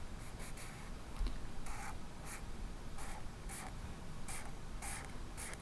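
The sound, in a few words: marker coloring in a drawing on paper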